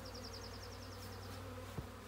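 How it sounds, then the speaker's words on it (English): A swarm of honey bees held in a swarm trap, giving a steady low hum and buzz with faint wing whine throughout, close and continuous with no talk. "Still got them in the swarm trap."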